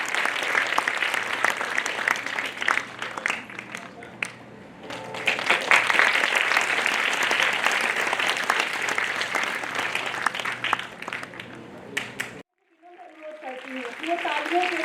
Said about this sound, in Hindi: आप सभी से अनुरोध है कि जोरदार तालियों के साथ अतिथि महोदयों का स्वागत करिए